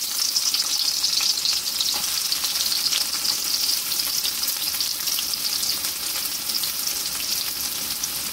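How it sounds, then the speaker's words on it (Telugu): Onions sizzle steadily in hot oil in a pan, a loud, continuous, close frying crackle that holds evenly the whole time with no voices. "ఇప్పుడు ఆనియన్స్ వేసుకుందామండి."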